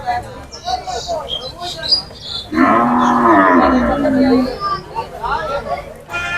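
Cattle at a livestock market, one loud, drawn-out moo rising over a busy background of voices and insect chirps.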